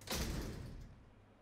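A creaking door in the Resident Evil Remake video game swings open with a single loud, close groan that fades out over about a second, heard on its own.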